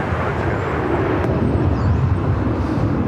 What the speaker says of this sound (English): Up next, another E-Jets, United Express SkyWest flight 5944,